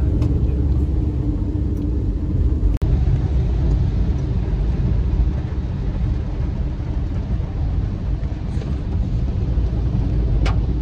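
Steady low road rumble from inside a moving car on a rainy-day trip to Dinajpur, continuous and fairly loud throughout, with one sharp knock near the three-second mark and no talk.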